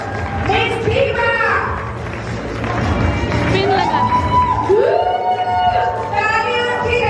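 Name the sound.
audience applause and cheering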